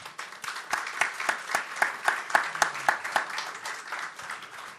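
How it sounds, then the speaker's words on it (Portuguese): Steady applause from a crowd at a formal ceremonial session, many hands clapping together for several seconds, fairly close and even, with no one speaking. "Palmas para o Caio, por gentileza."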